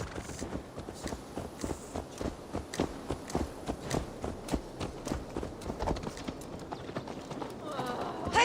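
Horse hooves clop at a steady walking pace, close and distinct, in the Assassin's Creed Valhalla video game, with a voice briefly rising near the end.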